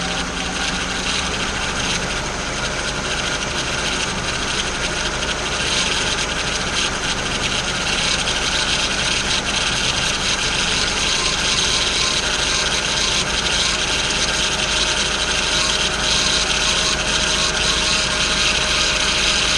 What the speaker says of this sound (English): she does sound a little upset, that pump